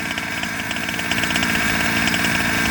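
Nitro RC car engine with a non-stock motor idling and chugging, a steady buzzing rattle with fast pulsing, close and loud, running alone without any talk.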